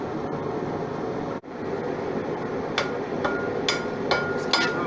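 Light, slow hammer taps on metal pieces being forge welded, several sharp strikes spaced irregularly over a steady loud roar of forge or blower noise.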